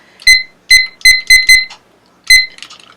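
Loud electronic timer beeps nearby, a quick irregular burst of five then one more after a pause, high and piercing.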